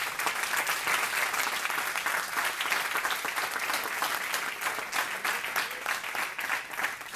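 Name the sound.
church congregation applause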